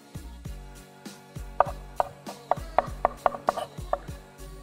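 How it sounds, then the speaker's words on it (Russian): A knife chopping rosemary and mint on a board for a grilled pear dessert: a quick series of sharp, close knocks, irregular at first, then a steadier burst of about a dozen rhythmic chops. "Порубим легонечко розмарин. То же самое сделаем с мяткой."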